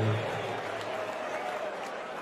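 A 7,500-strong crowd at an evening darts match keeps up a steady, broad wash of applause and cheering, with a commentator talking over it.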